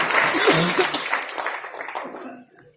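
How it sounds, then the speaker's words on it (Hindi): An audience in a hall at a network marketing talk claps in a dense burst of applause that fades out over a few seconds, with some laughter and voices mixed in. "तालियां होनी चाहिए सर के लिए"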